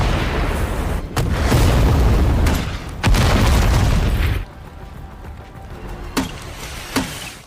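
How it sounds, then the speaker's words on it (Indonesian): Grenade launcher explosions pound vehicles in a film action scene: heavy, sustained booming rumble for several seconds with a sharp burst partway, then quieter aftermath with a couple of distant pops. "Lantas Tyler menembakkan pelontar granat seperti di FF untuk menghabisi sniper dan juga membombardir semua kendaraan"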